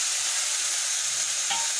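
Shrimp and vegetables, ridge gourd and drumstick stems among them, fry in a pan with spices while being stirred, giving a steady close hiss with a faint scrape near the end.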